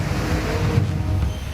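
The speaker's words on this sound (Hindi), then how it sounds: "जिस वेग के साथ पानी बह रहा है मानो अपने साथ सब कुछ बहा" Floodwater in a river in Nashik rushes past in a continuous loud roar, with dense broadband turbulence and a low rumble throughout.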